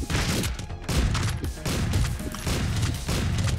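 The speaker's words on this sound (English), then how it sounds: "they're shooting each other now" Gunfire crackles through a Streets of Rogue game scene as characters shoot each other, dense repeated bursts of shots under steady game noise with no one speaking.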